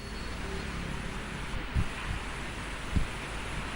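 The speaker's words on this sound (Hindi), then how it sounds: "यहाँ पर बारिश बहुत तेज तो नहीं हो रही, हल्की फुल्की बारिश हो रही, लेकिन इस इलाके में हवाएं तेज इस वक्त चल रही हैं।" Light rain falls amid strong gusting wind at Vijay Chowk in Delhi, a steady dense hiss with a couple of low thumps from wind buffeting, no talk heard.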